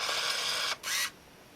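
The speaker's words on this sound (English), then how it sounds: "when that starts blinking it'll indicate that it's close to time for the shutter to activate" An Olympus Infinity Stylus compact film camera fires its shutter on the self-timer, producing a close, brief mechanical whir in two bursts as the film motor advances.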